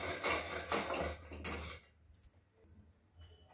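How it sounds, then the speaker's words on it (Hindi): A peanut dish being stirred in a pot, with a spoon scraping and clinking against the pot for under two seconds before it trails off into quiet, faint handling, close by and with no talking. "अच्छे से मिक्स करेंगे इसको"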